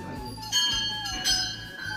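Temple bells hang at the doorway of Danda Nagraja temple in Uttarakhand, and their metallic tones ring and sustain, with two stronger strikes standing out over a continuous bright shimmer.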